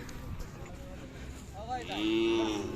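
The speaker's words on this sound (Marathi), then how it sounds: "हे व्यापारी वर्गांनी खरेदी केलेल्या गाय आहेत" Cows bought by traders low and moo at a village cattle fair, with a long drawn-out moo near the end and people talking in the background.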